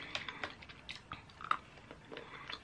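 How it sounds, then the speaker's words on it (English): Someone eating good-quality dark chocolate, with soft, quiet bites and chewing that come in short bursts at an uneven pace, close to the mic and no talking. "All my videos recently are just me eating chocolate."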